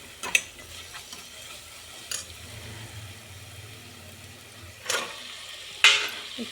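Vegetables stir-fried with masala in oil after the spices have released their oil: a quiet, low sizzle broken by a few sharp scraping stirs of a spatula against the pan, with no one speaking.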